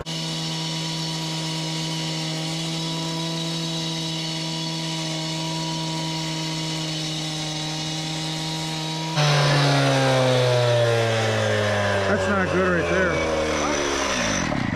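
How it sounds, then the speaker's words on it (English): A gas-powered saw idles loudly, then revs up and cuts into a joint in a stone wall with a rising, grinding whine and wavering pitch, heard close and dominant. "Just grab that saw and cut it."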